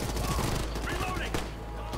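Automatic gunfire from a firefight in Ghost Recon Future Soldier: continuous loud, close rattling shots under shouted squad callouts, with a sharp crack near the end.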